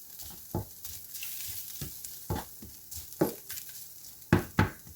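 Ground meat cooks down in a pan, a steady soft sizzle with no grease drained, broken by several clattering scrapes of a utensil stirring it, close up and with no voices.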